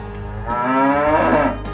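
A cow gives a single long, loud moo that rises and holds, close and clear with nothing else over it.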